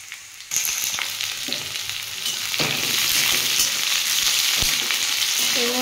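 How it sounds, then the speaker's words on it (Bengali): Garlic cloves, two chillies and onion frying in a pan for a ripe pointed-gourd mash, a loud continuous sizzle with clinks and scrapes of stirring throughout. "পেঁয়াজটা ভালো করে ভেজে নেব।"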